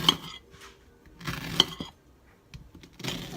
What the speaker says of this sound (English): all I do is just simply cut off the head of it, like that, and cut off the butt, and just basically just roughly chop up chunks